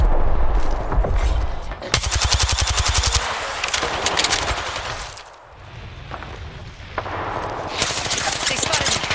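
Rapid automatic gunfire in the battle-royale shooter Apex Legends, loud and close, bursts rattling in quick succession with a short lull midway before firing resumes.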